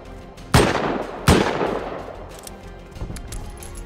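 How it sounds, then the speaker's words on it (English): Two loud, close gunshots from Rust ring out less than a second apart, each with a long reverberant tail, followed by a fainter distant shot. "Is that you shooting?"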